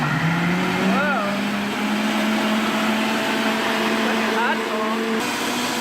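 A countertop blender running a blend program, motor droning steadily and loudly with a rising whine, while a person speaks briefly over it.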